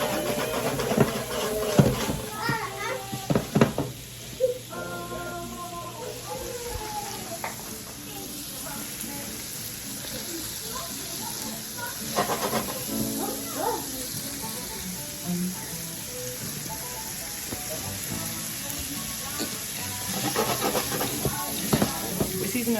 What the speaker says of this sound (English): we're just gonna wait for the shrimp to cook up